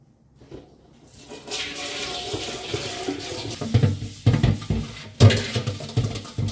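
Running water splashes and gushes while a copper vessel is washed at a home sink. The flow builds from a faint start into a loud, uneven spatter with sharper knocks and surges near the end.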